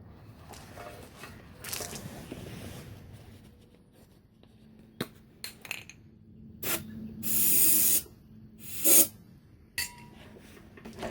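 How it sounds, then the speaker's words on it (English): Starter fluid sprays into an old, rusted, water-filled engine in a few short hissing bursts, one long spray and several quick puffs, close and fairly loud over faint background rustle. "We'll go with some just starter fluid, no choke."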